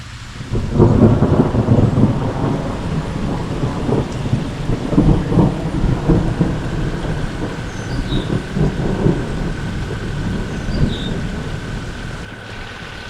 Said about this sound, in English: Let's have some thunder.